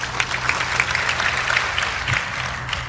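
A small audience at a talk gives a short round of applause, a brisk crackle of clapping heard nearby, moderately loud and steady for a few seconds.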